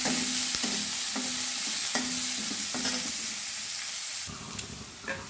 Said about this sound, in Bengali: এবার পেঁয়াজগুলো ভাজা হয়ে এসছে